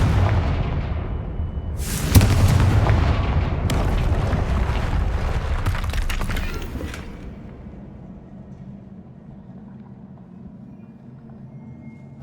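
Confringo fire-spell blasts from Hogwarts Legacy: a few sharp, booming bursts over a heavy rumble, then the sound fades to a low, quiet tail.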